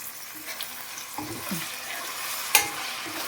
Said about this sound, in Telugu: ముక్క అనేది మనకి చికెన్ ముక్క అనేది బాగా వేగాలన్నమాట